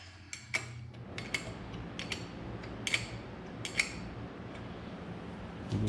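Ratcheting wrench snugging bolts during a John Deere B engine rebuild while fitting the magneto: a series of sharp metallic clicks and pawl ratchets, close and fairly quiet, coming in irregular bursts with pauses between.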